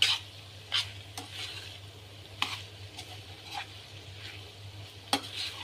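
Chicken chilli being stir-fried in a pan: a soft, steady sizzle with repeated sharp scrapes and taps of the spatula against the metal every second or so, close and alone with no talking.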